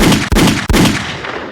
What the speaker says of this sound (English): I'm gonna hit the gunshot